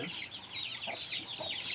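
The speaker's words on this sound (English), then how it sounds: "You can see we have chicken inside." Several chickens cluck from inside a handmade basket used for keeping them in a village home, with steady close clucking and soft chatter continuing throughout.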